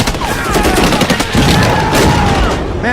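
Dense gunfire in a war movie battle scene, a steady, loud roar of rapid automatic shots and blasts with no break, close and continuous throughout.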